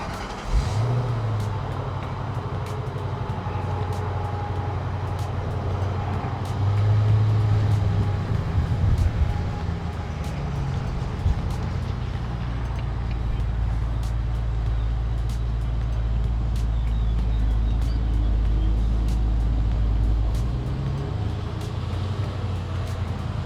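A 2004 Ford Thunderbird running and driving, its low steady engine note rising and falling gently with a few brief surges, quiet and smooth throughout with no talking.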